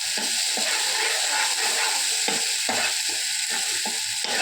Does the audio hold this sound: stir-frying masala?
yes